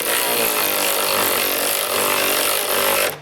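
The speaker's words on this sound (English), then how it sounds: "I'm going to go back with a 3/4 inch socket and tighten them all down" A 3/4 inch socket drives and tightens trailer hitch bolts on a 2022 Chrysler Pacifica, a steady loud whirring grind that runs nearly unbroken, close up, then stops abruptly near the end.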